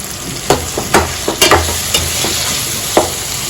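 Boiled potatoes are sautéed in hot oil in a pan, with a loud, close sizzle broken by repeated stirring knocks and scrapes spaced irregularly, and no talking.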